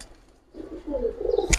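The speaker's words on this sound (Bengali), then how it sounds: "পাল্লা লেনেন এক জোড়া বাঘা কবুতর" Bagha pigeons give a short, soft low coo close by, rising in a brief burst before a sharp click at the end, in an otherwise quiet setting.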